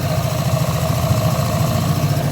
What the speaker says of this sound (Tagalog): Tahimik yung makina.